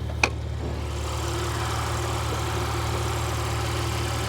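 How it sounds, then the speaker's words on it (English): A 2017 Porsche Macan GTS's six-cylinder twin-turbo engine idles with a steady low hum and rumble, close by, after a brief click at the start. "The GTS model is powered by a 6-cylinder twin-turbo"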